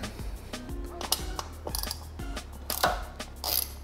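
A bolt is unscrewed on a motorcycle transmission, a Harley Sport Glide, during an oil change, with a series of sharp metallic ratchet clicks and clacks in irregular bursts heard up close.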